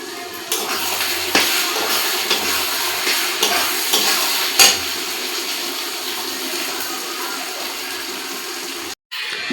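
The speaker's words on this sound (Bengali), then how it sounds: "কুচনো পেঁয়াজ, পেঁয়াজটা লাল লাল করে ভেজে নিয়ে আমি টমেটো দেব।" Chopped onions frying in a pan for a fish curry, a steady close sizzle and bubbling hiss lasting throughout with brief clatters and no talking.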